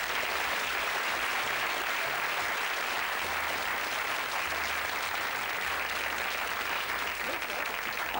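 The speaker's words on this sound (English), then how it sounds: "give this gentleman a big round of applause" An audience at a magic show applauds for a gentleman, dense sustained clapping filling the whole stretch at a steady, fairly loud level.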